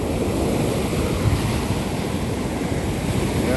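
Sea waves wash onto a seashore in a continuous broadband roar, loud and close, with wind buffeting the microphone and no voices.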